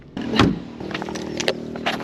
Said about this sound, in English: Got out of the car and locked it and forgot my coffee.